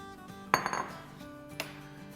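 Food being moved into a clean bowl while making crispy aloo laccha balls, with a sharp utensil clink against the bowl, a few lighter scrapes after it and one more clink near the end.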